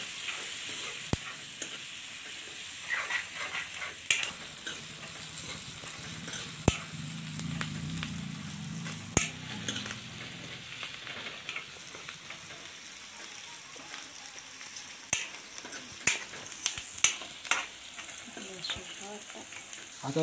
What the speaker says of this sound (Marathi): आता याच्यात हिरव्या मिरच्या. आता आपण कांदा टाकू. कांद्याला थोडं लालसर येऊ देऊ.